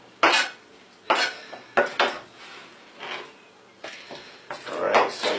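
Bowls and dishes handled while plating chicken and rice soup, with several distinct ceramic clinks and knocks spaced a second or so apart, close by, and some quieter shuffling between them.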